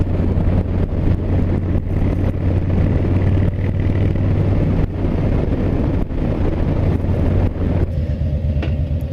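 A Harley-Davidson motorcycle rolls along a country road with a steady low engine drone, buried under heavy wind rush from the ride.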